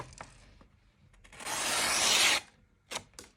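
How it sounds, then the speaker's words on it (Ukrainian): A Victorinox multitool blade drawn across a sharpening stone, a few soft scraping strokes building to one longer, louder rasping pass, then brief light scrapes, close and without speech. "я точу довго, тому що він довго триматиме заточку, довго буде різати"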